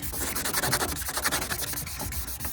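Ford Explorer headlights are scuffed by sanding, making a steady, close, gritty rubbing hiss with a fast back-and-forth rhythm that runs without a break and without talk.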